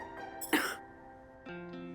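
A single short cough from a woman with a slight cold, a burst at the middle of a quiet indoor scene, followed by faint background tones.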